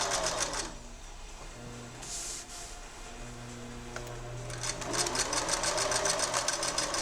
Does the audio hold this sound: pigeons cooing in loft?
no